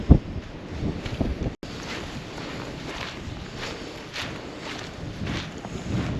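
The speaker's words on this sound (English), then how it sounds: "I think it will be too windy, it's picked up quite a lot" Strong wind gusts over an exposed slate quarry in Snowdonia, buffeting the microphone in a heavy, uneven rumble with a brief cutout partway through.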